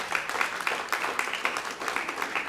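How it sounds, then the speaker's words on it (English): Scattered audience applause at a Hispanic Heritage Month celebration, a moderate patter of clapping that holds steady for a couple of seconds with individual claps standing out. "give that some applause"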